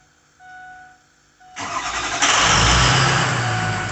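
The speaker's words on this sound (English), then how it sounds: "it definitely starts quicker since it's spinning faster and harder" Ford Power Stroke 6.0 diesel engine cranked by an upgraded 6.7 starter, with a short whirring crank that catches quickly into a loud, close rumble that settles toward idle.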